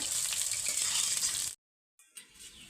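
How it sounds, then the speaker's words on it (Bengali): Prawns fry in hot oil seasoned with salt and turmeric, giving a close, bright sizzle that cuts off to silence, then resumes more faintly with a small clatter. "নুন দিয়ে হালকা হলুদ দিয়ে আমি ভেজে নিচ্ছি চিংড়ি মাছগুলোকে।"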